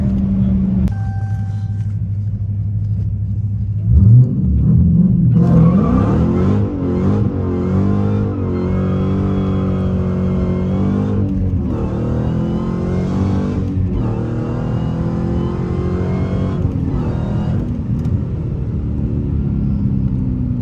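A manual Dodge Hellcat engine revs and accelerates hard from 0 to 60, its pitch climbing through gear changes, loud and close with a steady rumble underneath.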